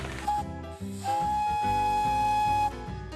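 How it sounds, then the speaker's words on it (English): A steady, tonal steam locomotive whistle blows in two long blasts, the second held for well over a second, over a rumbling mechanical background, on a railway in the Canadian Rockies. "The whistle on this thing is our little moneymaker. There goes that whistle."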